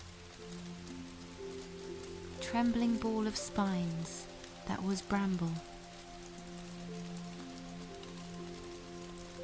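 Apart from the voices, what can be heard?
rain falling at night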